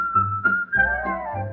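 A person whistles a short, bright melodic phrase from a tune, a few clear sustained notes, close and alone.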